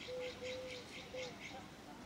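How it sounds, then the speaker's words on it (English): Wild birds calling outdoors in a spot with many species, faint distant whistles and chirps repeating in short bursts over soft background noise. "There's maybe 10 or 12 different kind of birds here."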